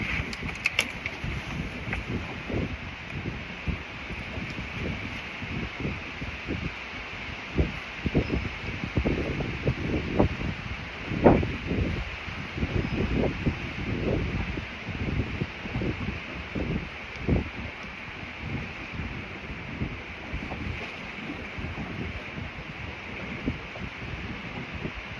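Strong wind blowing around 20 mph with gusts into the 30s on open water while fishing from a boat, a steady rushing roar with buffeting microphone gusts and rustling throughout.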